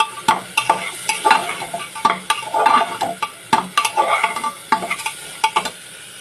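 Spatula scraping and stirring chana dal coated in masala paste in a hot pan, with repeated scrapes and a steady sizzle, close and fairly loud, no talking.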